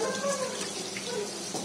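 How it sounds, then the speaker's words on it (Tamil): Water runs from a tap onto hands in a steady, close splashing stream lasting under two seconds, with faint voices in the background. "கொஞ்சம் தண்ணி விடு தண்ணி விடு கையில லைட்டா"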